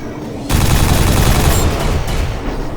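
A big gun firing in the shooter Quake 4: a loud, dense barrage of rapid shots starts abruptly and roars on continuously at close range with little pause.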